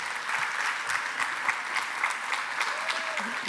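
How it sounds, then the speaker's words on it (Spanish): An audience at an international care congress in a conference hall gives a steady round of applause, a dense even patter of many hands clapping at moderate loudness throughout. "Un aplauso."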